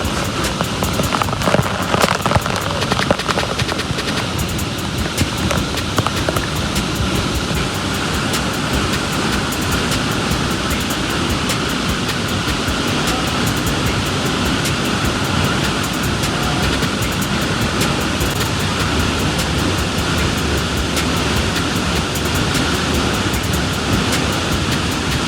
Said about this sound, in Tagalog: Nasa likod kami ng falls.